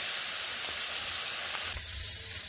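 Lote fish sizzles in spiced oil in a pan, giving a steady, close, bright hiss that runs throughout, with a faint low clunk and a slight change in tone near the end.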